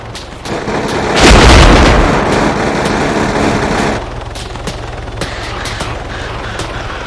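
An aircraft makes a strafing run in the video game ArmA 3: a loud, heavy burst of booming gunfire swells, holds as a dense roar, then thins into scattered cracks and rumble.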